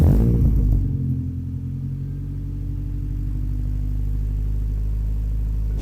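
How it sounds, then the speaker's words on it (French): A Honda Civic engine cranks and catches with a burst, then settles into a steady low rumbling idle close by, with no voices. "à côté du pot, et je vais te la démarrer."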